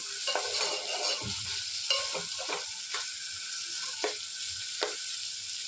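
Chopped tomato softens in a pan for upma, a close, steady sizzle broken by repeated scraping stirs of a spatula, with no talk.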